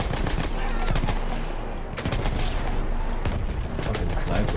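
Dense, continuous gunfire in the Battlefield 1 campaign: rapid machine-gun bursts and overlapping shots with booming reports, loud and unbroken throughout.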